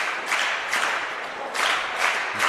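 Indoor cricket crowd at a national championship semi final breaking into applause, bursts of clapping that swell and fade in several waves, fairly close and without talk.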